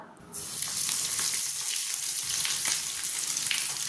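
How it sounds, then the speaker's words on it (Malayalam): Breadcrumb-coated snacks frying in oil over a medium flame, a steady, close bubbling sizzle with crackling spits throughout. "ഇതുപോലെ തന്നെ മുഴുവനായിട്ട് നമുക്കൊന്ന് ഫ്രൈ ആക്കിയിട്ട് എടുക്കാം"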